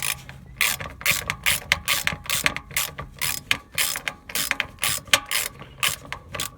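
A breaker bar ratchets while drive shaft bolts come off a Ford Explorer, making rapid, close, loud clicking pawl bursts in repeated quick strokes, each a short run of ticks with brief pauses between, no talking over it.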